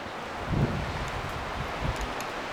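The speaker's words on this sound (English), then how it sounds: "You can hear the wind blowing." Wind blowing across a lakeside campsite at Bull Trout Lake, a steady broadband rush with soft rustling and a couple of stronger gusts, fairly close to the microphone.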